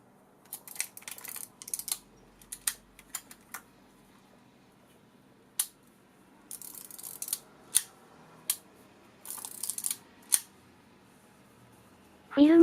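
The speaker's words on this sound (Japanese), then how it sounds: "巻き取り軸のこの方向に、フィルムの先端を差し込み、2、3回シャッターを切りながら巻き上げます" Sharp mechanical clicks and ratcheting from a Rollei 35 film camera as the shutter is fired and film is wound, a dozen or so close, crisp snaps at uneven intervals in a quiet room.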